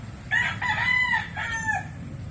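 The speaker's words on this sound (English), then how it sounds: "I always hear the roosters crowing." A rooster crows loudly and close by in a village neighborhood, one long rising and falling call broken into a few strained segments, with no talking over it.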